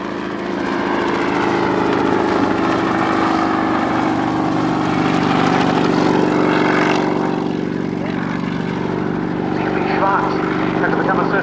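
A Bristol 171 Sycamore helicopter of the Flying Bulls fleet flies at the 2018 Yeovilton airshow, its steady engine and rotor drone loud and continuous, with a low voice faintly audible beneath.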